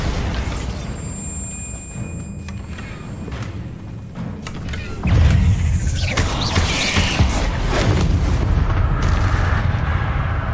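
A Bombarda spell blast in Hogwarts Legacy lands with a sudden heavy boom, then a sustained rumbling roar with debris and mechanical creaks, over a constant loud game ambience.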